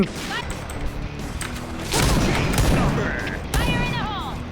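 Gunfire from a Point Blank match, including sniper shots, with sharp bursts and clattering impacts over a busy game soundtrack of effects, and a voice talking over it.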